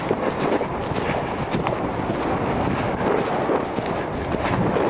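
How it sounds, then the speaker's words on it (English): Steady, loud wind rushing across the microphone while cantering on a horse named Lenny during fitness work, a continuous broadband roar with faint rhythmic hoof beats underneath. "Pick up a bit of pace now, you can hear the wind, I'm sure."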